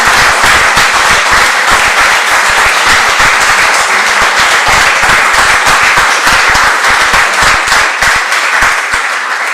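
Audience applause welcoming Federico Rampini at a talk event, a dense, loud, sustained round of clapping from a large crowd lasting throughout without talk.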